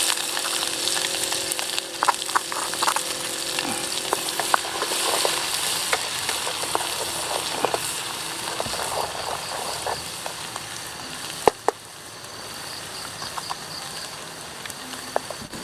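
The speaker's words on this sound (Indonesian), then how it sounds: "Lanjut kita goreng ya bumbunya." Ground spice paste sizzles and crackles steadily in hot cooking oil for chicken curry, with occasional stirring clatter and sharp pops, close and continuous throughout.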